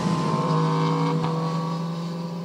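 Engine exhaust noise from a passing motorcycle on scenic roads, a steady loud drone with a brief swell near the middle, continuous and close, with no talk.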